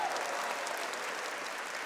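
A church congregation applauds during a sermon, a steady wash of clapping from many hands at moderate distance, continuing evenly throughout.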